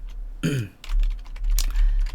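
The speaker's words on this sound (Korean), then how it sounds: "이건 좀 타이핑을 간단하게 좀 한번 해보도록 할게요" Someone types on a computer keyboard with a quick patter of key clicks, mixed with brief vocal noises and a low steady hum.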